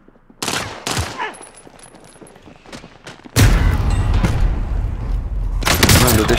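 Sharp gunfire bursts early on, then a sudden heavy explosion of C4 on a helicopter with a long rumbling tail and more blasts near the end, combat sounds from the video game Warzone.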